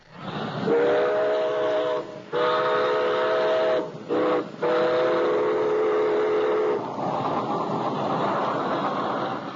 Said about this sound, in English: I think there's a train coming in.